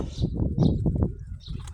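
Red and speckled domestic pigeons flying overhead, wings flapping in close bursts with faint chirps, loud and nearby with no speech.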